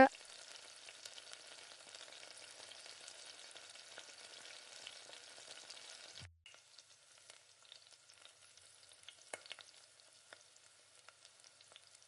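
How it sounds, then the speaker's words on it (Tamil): Masala sautéing in oil over low heat, a soft steady sizzle with faint crackles and a brief stir midway, quiet and close. "ஒரு 2 நிமிஷம் 3 நிமிஷம் அப்படியே நல்லா எண்ணெயிலே வதக்கி விடுங்க"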